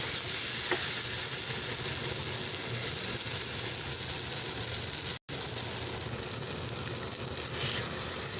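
A pan of curry leaves pepper kulambu bubbles and sizzles steadily on the stove, a constant close frying hiss with faint stirring, no voices.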